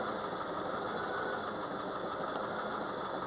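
A Fiat Ducato diesel engine with DPF soot build-up ticks over at idle, a steady close rumble with no gaps and a faint shake in the tone.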